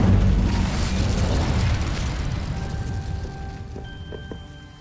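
Incendio fire spell in Hogwarts Legacy bursting with a loud rumbling blast that decays over a few seconds, followed by faint ringing tones as it fades.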